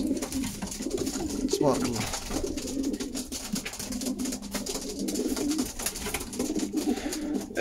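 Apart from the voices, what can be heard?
squabs (young pigeons) cooing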